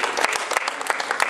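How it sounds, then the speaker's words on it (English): An audience claps steadily to welcome arriving guests at a Vasant Panchami celebration, dense continuous applause filling the room without pause. "So please keep clapping."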